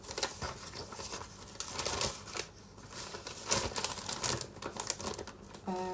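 Tracing paper crinkles and rustles as it is handled and pulled from a drawer during a cross-stitch patchwork project, a dense run of close papery crackles and taps lasting throughout.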